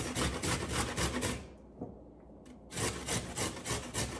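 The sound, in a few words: grating a large carrot on a grater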